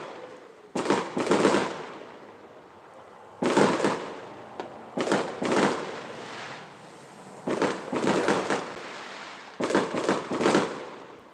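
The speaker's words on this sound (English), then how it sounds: "Those sound like fireworks." Bursts of fireworks going off in rapid crackling clusters, several volleys separated by short pauses, loud and fairly close, with no talking.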